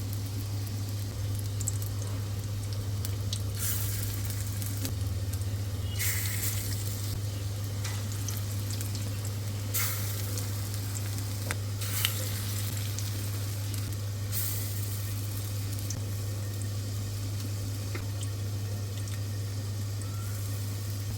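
Bora fritters frying in a hot karahi with a little oil, a soft continuous sizzle over a steady low hum, with occasional brief bursts of spattering.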